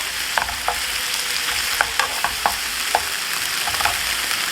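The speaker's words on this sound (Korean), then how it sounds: "그러면 토마토 소스, 만들어진 토마토 소스 넣어주시면 돼요." Squid and shrimp frying in a pan as tomato sauce goes in, giving a close, steady sizzle with scattered crackles and stirring clicks and no talk.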